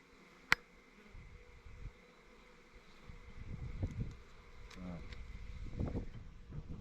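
Honeybees buzz around a heavy hive frame, a steady low drone of many insects close by, with faint handling bumps and a sharp tap near the start.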